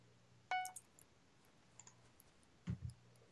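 Computer keyboard typing while chatting during a Minecraft Super Smash Mobs game: a few quiet, scattered key clicks, faint and close, with no talking.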